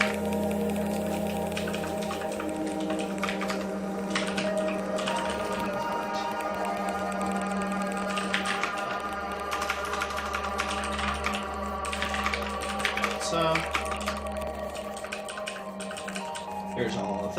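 Quick bursts of typing on a computer keyboard during a programming session, close and steady, over a constant droning background hum.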